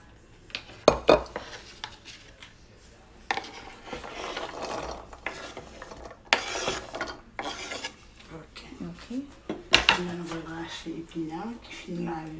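Spinach being sliced into smaller pieces with a knife on a board, irregular scraping cuts and sharp knocks at varying pace, moderately close, with people talking throughout.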